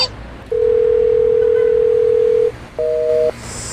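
A telephone tone sounds during an attempted call: a steady two-second beep, a short pause, then a shorter dual-tone beep, loud and clear with faint background hiss and no talking.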